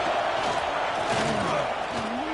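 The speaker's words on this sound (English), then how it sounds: "Listen to the crowd energy here in the early going." Football stadium crowd cheering early in a game, a steady, loud roar of many voices with a few shouted calls rising above it.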